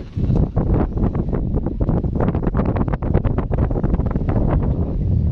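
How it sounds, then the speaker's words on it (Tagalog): Strong wind at Bacut Lake, Sta. Marcela, buffeting the microphone in a constant low rumble with rapid gusty flutters, loud and unbroken throughout. "So ayan, medyo mahangin."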